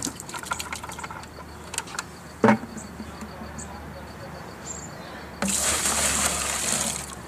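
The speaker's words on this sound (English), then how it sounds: "Clean that bucket out." A bucket rinsed out with water after working a gold concentrate, beginning with scattered clanks and knocks, then a sharp bump, and ending in a louder steady gush of running water close by.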